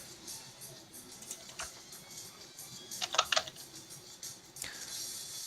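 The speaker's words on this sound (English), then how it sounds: "when Diego's typing the location for the image" Typing on a computer keyboard in a quiet room, soft scattered key taps with a brief quick flurry of clicks midway, faint and close, with no talk over it.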